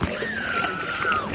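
River tubes knock together and splash on the Indian River in Michigan, a brief, close burst of sloshing water with a squeaky rising and falling tone over it.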